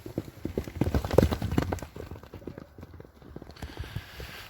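A trained five-year-old horse, offered for sale, clip-clops on hard ground in quick, uneven hoofbeats, loud and close at first, then lighter and more scattered as it moves.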